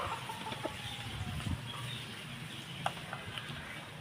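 Three-month-old white Kelso cockerels cluck faintly and intermittently in a farm yard, the brief calls sitting low under a steady background hiss.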